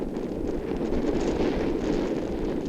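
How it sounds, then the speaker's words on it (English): Steady, heavy wind roar buffets the microphone throughout, a continuous low rumble with no pauses and no voices. "the wind's just too windy right now to shoot precision shots"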